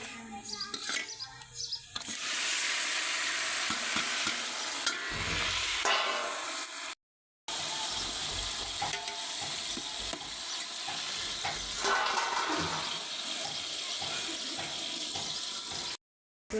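Tomatoes frying in a home-cooking pan already holding potatoes and turmeric, giving a steady, close sizzle with stirring scrapes and clinks, broken by a brief silence midway. No one talks.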